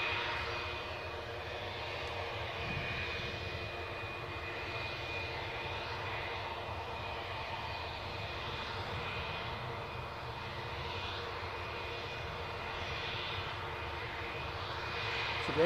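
A 22-year-old aircraft's engines roar steadily at Newcastle airport, a broad continuous drone heard from a distance, holding even in loudness throughout without any talk over it.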